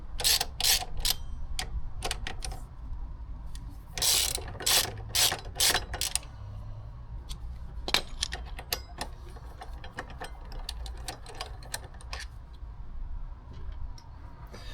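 A hand ratchet clicks in quick bursts while loosening 12 mm bolts on a Honda CB125F motorcycle: several close, crisp runs of ticking separated by short pauses, with no talking.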